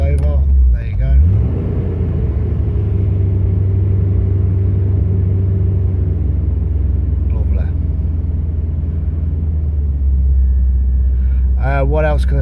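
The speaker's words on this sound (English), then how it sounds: "It's on petrol. I'll rev her now. It's just misfiring." Petrol-running Range Rover Classic engine revving and misfiring, a steady loud rumbling idle with uneven revs, with someone speaking briefly at the start and end.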